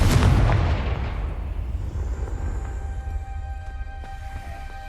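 A Confringo spell in Hogwarts Legacy lands as one loud, booming blast whose roar fades away over several seconds into a faint rumbling tail.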